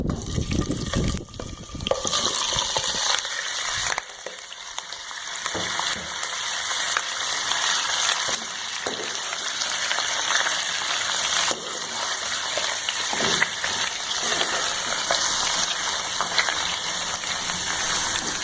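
About 1.25 kg of chicken goes into hot oil beside already browned onions, setting off a loud, continuous rushing sizzle that holds steady for the whole stretch with only small dips, close up and with no voices.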